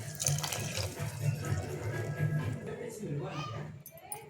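Tap water runs and splashes into a cooking pot for a few seconds, close by, while a person speaks over it.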